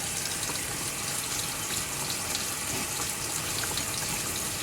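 Water from a single 3/4 inch hose feed pours steadily into a tank, making a constant soft hiss and splash at low volume with no voices.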